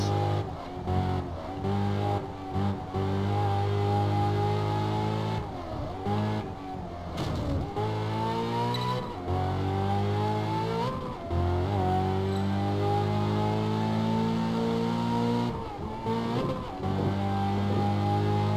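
A Ferrari California in the racing game Test Drive Unlimited 2 revs hard and climbs through the gears. Its engine drone rises repeatedly, with brief dips at each shift, loud and close throughout with no talk.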